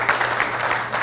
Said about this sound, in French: beaucoup d'applaudissements s'il vous plaît